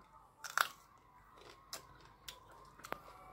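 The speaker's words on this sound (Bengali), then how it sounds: "খাচ্ছি বড়ইটা" Crisp bites and crunchy chewing of an unwashed apple jujube (apple kul), a sweet fruit, with one loud crunch early and a few sharper bites after, close up and quiet between, with no talking.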